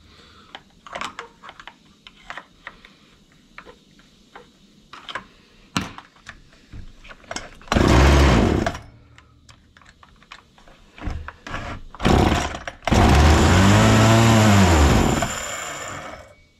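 Husqvarna 236 chainsaw engine cranking and briefly catching, with two loud bursts of running that die out and stall, separated by clicks and handling sounds nearby.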